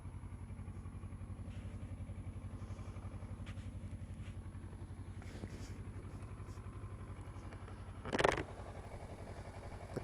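A 2014 Kawasaki Versys 650 motorcycle idles and putters steadily through slow figure-eight turns, a low, even engine pulse throughout with a brief louder clatter near the end.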